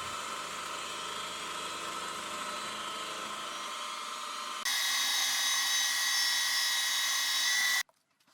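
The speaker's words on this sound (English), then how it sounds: "The first thing that I'll do is I'm going to machine in a flat" A steady machine whine and grinding hum of metal being cut as a flat is machined on a metal part, shifting to a harsher, brighter tone midway before abruptly stopping.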